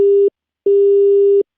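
Phone call disconnected tone: a loud, pure steady beep cut into two pulses, a short one then a longer one after a brief silence, clean and alone.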